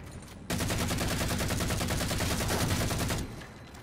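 Sustained machine gun fire in Halo 4, a loud, continuous rapid rattle of shots that runs unbroken for about three seconds before dropping back to quieter background game noise.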